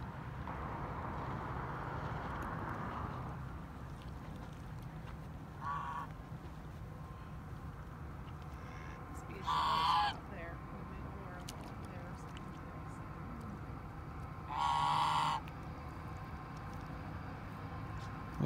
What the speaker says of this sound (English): I don't know if you can see all the ducks out there